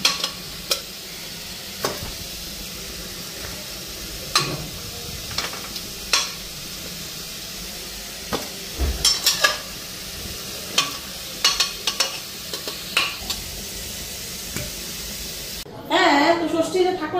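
Potatoes and boiled chickpeas sizzle in a pan while a spoon scrapes and stirs them in irregular clacks over a constant frying hiss, with a voice briefly heard at the end.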